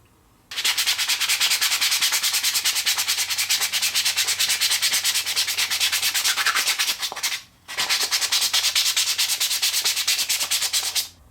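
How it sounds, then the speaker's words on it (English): Sanding a wooden tealight candle holder by hand, a loud, close, steady rasping scrub that runs continuously, pauses briefly, then resumes. "give the whole thing a good sanding"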